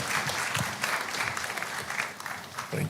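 An audience at Ghana's national AI strategy launch claps steadily, a dense, even ovation heard from within the hall, lasting the whole stretch without talk.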